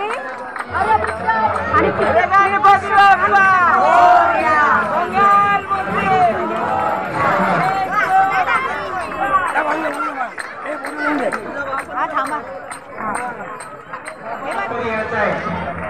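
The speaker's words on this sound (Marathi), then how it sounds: "मोठी गर्दी आहे" A large, dense crowd at a Ganpati immersion procession at Nandadeep Society, a continuous babble of many voices close by with shouting and chatter throughout.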